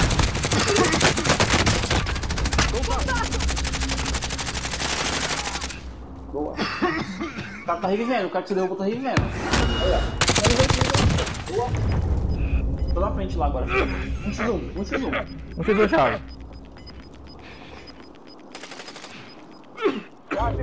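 Rapid bursts of machine gun fire in the video game Warzone, loud dense volleys early and again midway, with players talking excitedly over and between the shots.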